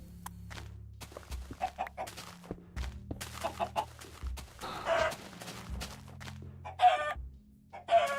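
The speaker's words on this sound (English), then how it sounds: "Out of the way, chicken!" Minecraft chickens cluck in short repeated bursts, near and fairly loud, interleaved with clicking game noises and low thuds across several seconds, without speech.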